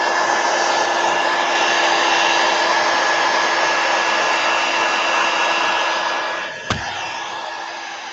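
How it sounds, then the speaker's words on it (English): A heat gun blows steadily on a craft card for an artist trading card, a loud, even whooshing rush that runs without a break for several seconds before it cuts off with a brief click and leaves a softer hum. "I'm going to hit it with the heat gun again real quick"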